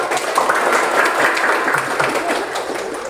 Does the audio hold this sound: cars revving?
no